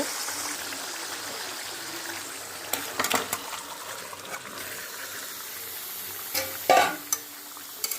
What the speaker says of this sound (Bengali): এবার আমি মাংসটা দিয়ে দেব।